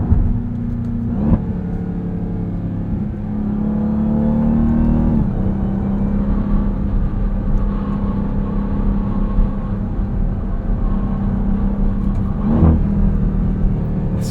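A 2023 Dodge Durango SRT Hellcat engine revs hard under the driver's pedal inputs, its steady loud drone rising and falling in pitch across several blips, with a sharp rev flare near the start and another near the end.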